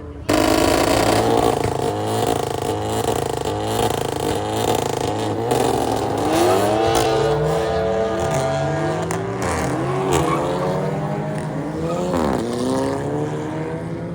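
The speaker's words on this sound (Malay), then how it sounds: "bunyi turbo tu, VTEC turbo." Honda Type-R FL5 and FK8 cars with VTEC turbo engines revving loudly at a night meet in Kuantan, several rising and falling engine pitch sweeps from launch-control pulls, continuous and close throughout.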